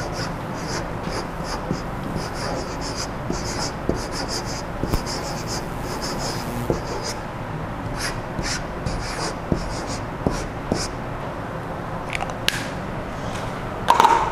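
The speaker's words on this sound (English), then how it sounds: "We're going to just write a message up here." A marker squeaks and scratches across a Plus C-20W copyboard as a message is written, making faint intermittent strokes over a steady room hum, with some caw-like background sounds.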